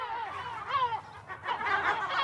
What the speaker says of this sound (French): des goélands, plus familiers des bords de mer, ont établi leur nid sur l'île, dans les herbes hautes